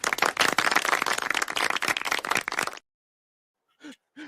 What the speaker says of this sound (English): The clapping is the best part of that